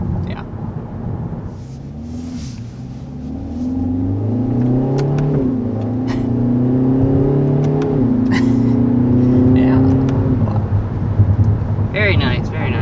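A 2021 Kia Forte GT with a dual-clutch automatic transmission accelerates hard, its engine note rising in pitch, dropping sharply at each quick gear shift, then climbing again, loud and close inside the cabin with some road rumble.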